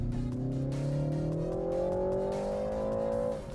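A car in sport mode with its transmission also in sport mode accelerates hard, its engine note rising steadily and loudly for about three seconds before cutting off, with synthesized engine sound pumped into the cabin.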